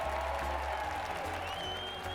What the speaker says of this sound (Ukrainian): Прошу підтримати оплесками Джеремі Піт, Євгеній Богданець, А Радіо